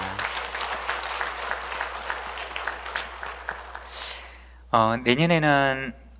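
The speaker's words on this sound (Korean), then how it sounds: "우리 함께 축복의 박수를 하도록 하겠습니다" Congregation applause in a church service marking a sister church's founding, a burst of clapping at the start that thins out and fades, followed by a voice speaking at the end.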